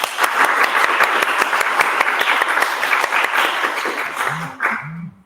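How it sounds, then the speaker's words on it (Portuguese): Lecture audience gives a round of applause, steady crisp clapping from a modest crowd for about four seconds, fading as a voice begins speaking over the tail end. "Vou pedir uma salva de palmas para ele"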